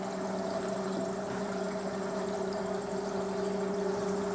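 Air is pumped steadily at four litres per minute into a fermenter holding four litres of water, producing a continuous even bubbling hiss with a faint steady hum underneath, unbroken and unchanging throughout.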